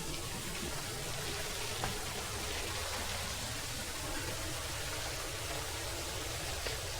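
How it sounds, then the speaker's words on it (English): A waterfall near a relaxation area on a trail at an eco hotel gives a steady, continuous rushing hiss of falling water, even and moderately loud throughout with no voices. "there's a waterfall nearby, so you just hear that really calming noise"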